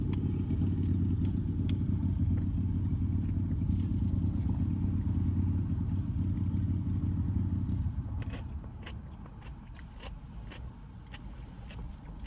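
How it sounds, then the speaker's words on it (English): Motorcycle engine droning loudly close by for about eight seconds, a low rumbling roar that then fades quickly as it moves away, leaving quieter background noise. "Motorcycle."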